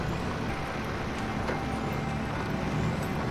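A heavy Mad Max-style truck in a North American trucking video game hauling heavy cargo, its engine giving a steady, moderately quiet droning rumble with road noise throughout and no voices.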